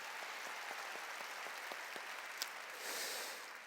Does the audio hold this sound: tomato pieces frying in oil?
no